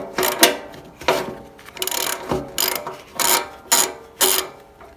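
Bolts underneath a motorcycle seat pan being loosened with a ratchet, a run of quick clicking bursts in an even rhythm, close and fairly loud, with no talk.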